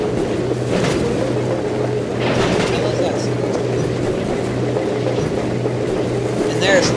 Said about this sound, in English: here I am driving in a Jeep